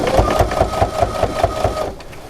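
A sewing machine stitches binding onto a quilt, giving a steady fast rhythmic whirr with even pulses that stops near the end and leaves a quieter tail.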